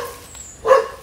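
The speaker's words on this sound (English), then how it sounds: "And over there we have the dog." One short bark from a dog on a farm in Lipa City, heard at a moderate distance against quiet outdoor background.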